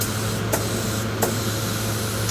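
A Central Pneumatic paint sprayer with a small tip hisses continuously, spraying paint in a steady, close airy rush with a couple of brief breaks in the spray.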